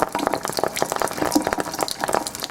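Close, rapid crackling and popping from Kangen hydrogen water heated over a lighter flame, an irregular stream of tiny snaps with no pause.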